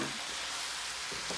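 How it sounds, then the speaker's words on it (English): Smoked sausage drops into a pan of sauteing cabbage and sizzles steadily, a close, even frying hiss with a couple of soft stirring bumps near the end. "So in goes that smoked sausage."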